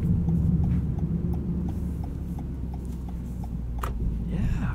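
A 2019 Toyota Corolla XSE Hatchback with a six-speed manual hums from the cabin while the driver blips the throttle to rev-match, a low engine drone with a steady ticking under road noise.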